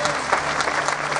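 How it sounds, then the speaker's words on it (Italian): A theatre audience breaks into brisk, dense applause, a short, loud burst of many hands clapping at once, without any speech. "facciamo un bel applauso di incoraggiamento"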